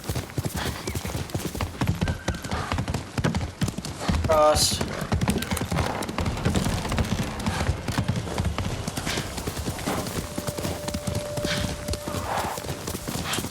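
Horse hooves clip-clop steadily and close in the video game Ghost of Tsushima, a continuous rhythmic trot that runs throughout, with a brief whinny early on and a voice talking over it.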